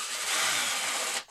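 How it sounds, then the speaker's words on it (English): A power drill tightens screws while an RV AirFlow unit is installed on an Imagine 2150RB travel trailer, giving one short, loud, steady whir that cuts off abruptly. "we're using our drill. We're going to get it mostly tight with the drill."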